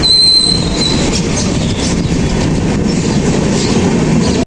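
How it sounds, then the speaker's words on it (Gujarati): A train rumbling past a railway level crossing during rain, a loud, steady roar of wheels and wagons close by, continuous and unbroken from start to finish. "રેલવે નીકળી રહી છે. હવે રેલવે ક્રોસ થઈ"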